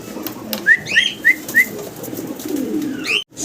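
A fancy pigeon calls in a few short whistling coos spaced close together, then another call near the end. It is close, over soft background noise, with no talking.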